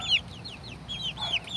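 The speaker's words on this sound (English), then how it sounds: "Okay, hi baby chicks." Baby chicks peep and cluck in quick, close, high-pitched chirps, several short calls in a row over a faint background hum.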